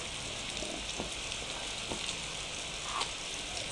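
Steady rain falls in the wilderness survival game Survive at Pike Lake, a dense, continuous hiss of drops on surfaces with faint scattered patters and no voices.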